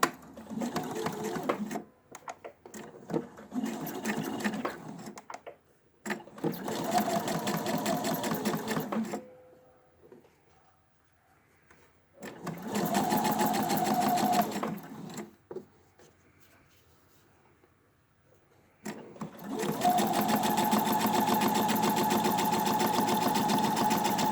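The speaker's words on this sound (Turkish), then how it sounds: "Kumaşımızın üstüne koydum ve dikmeye başlıyorum." A sewing machine stitches bias binding onto fabric in several close, steady runs of rapid mechanical chatter, separated by short quiet pauses, with no talking.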